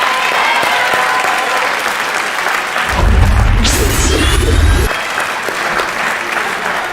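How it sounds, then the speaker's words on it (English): A crowd claps for student athletes from a boys varsity lacrosse game between Indian Hill and Wyoming. The applause is a sustained, dense patter that swells into a louder burst partway through, then eases back to steady clapping. "let's give a big round of applause to these wonderful student athletes"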